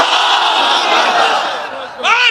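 A crowd chants the takbir, "Allahu Akbar," in loud massed voices at a religious gathering, sustained for about two seconds before a brief dip and a fresh surge of shouting.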